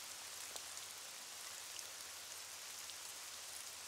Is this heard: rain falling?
yes